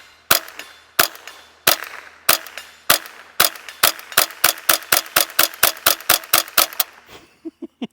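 Gunshots from a homemade .22LR bazooka built from aluminum pipe: roughly two dozen sharp, loud reports, first spaced about a second apart, then speeding into a rapid even string before a few lighter clicks at the end.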